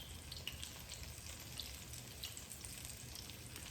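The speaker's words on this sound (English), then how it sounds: "you can hear the sizzling sound" Steady crackling sizzle of Chinese egg rolls frying in hot oil, with fine popping spatters throughout and no talking.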